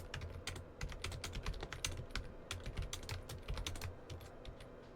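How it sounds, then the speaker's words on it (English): Rapid, steady typing on a computer keyboard, with close, crisp key clicks that run continuously and are heard alone without any talk. "Yes, I am typing down notes."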